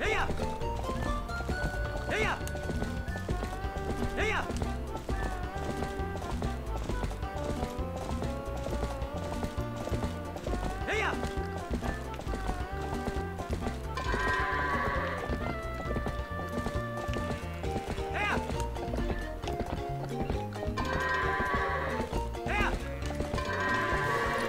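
Clip-clopping horse hooves and bleating goats from the video game The Legend of Zelda: Twilight Princess mix with steady game music, with occasional neighs cutting through the dense, continuous texture.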